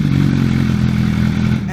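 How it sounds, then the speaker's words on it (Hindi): A loud, steady four-cylinder sport motorcycle engine drones at a high, sustained rev, its low exhaust rumble holding constant for the whole stretch before easing slightly at the end. "और अब हम सुनेंगे इस बाइक के एग्जॉस्ट नोट को"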